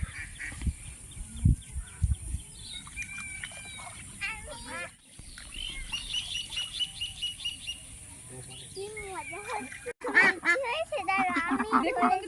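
Village ducks honk and quack in scattered bursts, some near and some farther off, with a person talking intermittently over them.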